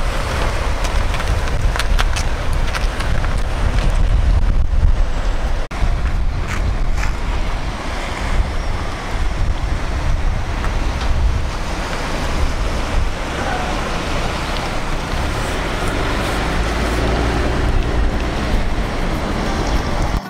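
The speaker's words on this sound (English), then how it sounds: "whenever the water is high tide and it's rushing through there, blows out the top" At high tide, ocean waves surge and rush continuously along the rocky shore at Depoe Bay, Oregon, with a loud, broad roar and steady wind buffeting throughout, no voices.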